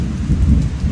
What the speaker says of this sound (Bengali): ওই দেখো, মেঘও ডাকছে, বিদ্যুৎ চমকাচ্ছে, এ বৃষ্টি আর থামবে না